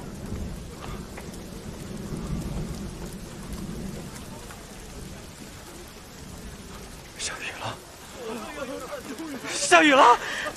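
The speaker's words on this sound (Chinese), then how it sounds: "下雨了！" Rain falling at a drought-stricken harbour town in a period drama, a steady wash of rainfall with a deep thunder rumble, voices and crowd murmurs beneath, and a sharp crack and louder burst of noise toward the end.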